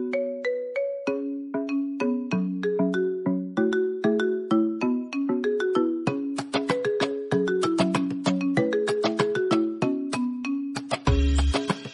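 A melodic phone ringtone plays loud and alone, a steady sequence of bright chiming tones that rise and fall in a repeating tune, ending in a brief denser burst.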